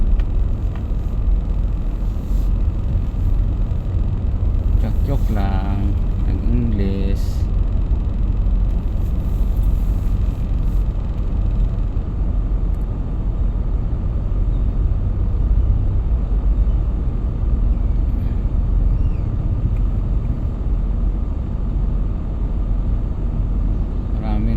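Steady road traffic on a street in Paseo de Rosa, a continuous low rumble of passing cars and engines close by, with a voice talking over it.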